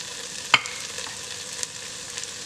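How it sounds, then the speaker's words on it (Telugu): Vegetables in a pan, cooked about 70 percent through for veg or egg dum biryani, stirred after chili and coriander powder go in: steady soft sizzle with an occasional sharp scrape of the spoon, close and alone. "కొద్దిగా ధనియాల పొడి వేసి బాగా మిక్స్ చేసుకోవాలి"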